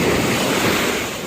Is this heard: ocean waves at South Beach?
yes